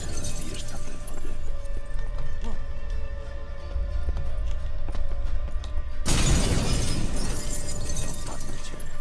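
Mirror shattering in The Witcher 3: Hearts of Stone, a sudden loud crash of breaking glass about two-thirds through, bursting out of a steady game ambience with a low hum.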